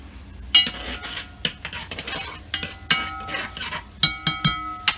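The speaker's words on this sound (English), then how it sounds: "All right, let's give this a stir." A utensil stirs a cornbread batter with cream style corn and cheese in a bowl, giving a run of close, irregular scraping strokes and light metallic clinks, with busier, quicker scrapes toward the end.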